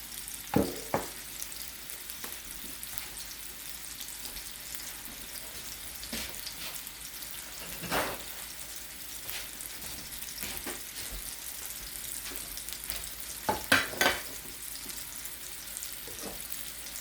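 Swedish meatballs brown in a pan over medium heat, a low continuous sizzle with scattered small pops and a few clattering touches of a utensil, including a burst of clinks near the end.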